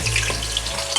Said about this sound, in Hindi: इसी पॉइंट पर मैं इसमें स्लाइसिस में कटी हुई 1 अदद मीडियम साइज़ की प्याज शामिल कर रही हूँ